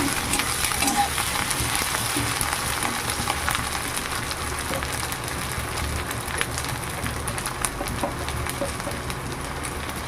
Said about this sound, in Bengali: এবার দিয়ে দেবো থেতো করে রাখা আদা আর রসুন। এবার এটাকে একটু ভেজে নেব।